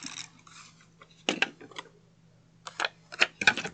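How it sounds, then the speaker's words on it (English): A tape runner being pressed and drawn along a paper file folder, giving several short crackling, ratcheting bursts separated by pauses over a faint low hum. "So now we're just going to take our tape runner, add some tape,"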